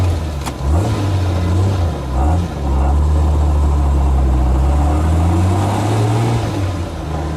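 A 1968 Jaguar E-Type Series 1.5 4.2 convertible engine drones steadily at close range, with a brief dip and swell as it shifts and pulls away again, loud and continuous without any talk.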